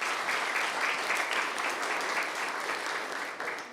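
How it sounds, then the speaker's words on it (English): Attendees at a Flagstaff city council meeting applaud city planning interns with a steady round of clapping that stays even and then tapers slightly toward the end, with no talking over it. "So I'd like to get a round of applause for them as well."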